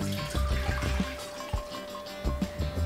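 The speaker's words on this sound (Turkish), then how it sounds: "1 litre suyumuzu ocağa döküyoruz." One litre of water is poured from a container into a cooking pot on the stove, a close, gurgling splash with uneven glugs.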